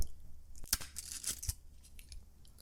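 A fortune cookie is snapped in the middle close to the mic: a quiet run of sharp cracks and crunchy snaps with faint rustling, no talking.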